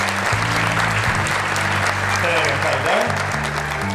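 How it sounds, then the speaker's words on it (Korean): Audience applause welcoming guests at the opening ceremony of the 2015 Seoul Humanities Forum, a steady broad wash of clapping throughout while someone speaks over it through a microphone. "큰 박수로 환영해 주시면 대단히 감사하겠습니다"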